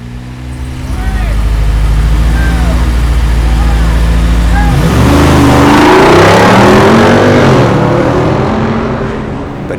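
A Jeep Wrangler Rubicon 392 with its big V8 launches from a standstill in a parking lot, a deep idle rumble surging into a loud, rising roar as it accelerates hard and pulls away, fading slightly at the end.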